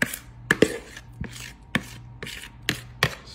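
A utensil scraping pudding out of a bowl in a home kitchen, a series of about eight sharp scrapes and taps close by at an uneven rhythm, with no talking.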